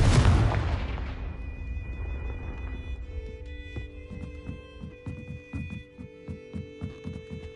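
A loud explosive blast from Bombarda and Confringo spells in a video game opens the moment and decays into a low rumble, followed by a steady hum and a string of softer rhythmic thuds.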